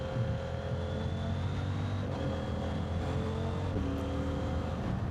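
A CF Moto 800MT ES motorcycle engine under way, with a steady loud drone and shifting engine tones that step up and down in pitch, and continuous wind and road noise throughout.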